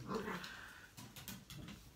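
Faint, low dog growling and grumbling indoors, a couple of short rough bursts with brief pauses in between, quiet and close.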